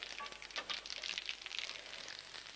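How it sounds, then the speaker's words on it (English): Beans frying in a pan, popping and sizzling: quiet, scattered crackles and small pops over a soft steady hiss, close by and without talk. "now you can hear the frying pan popping away"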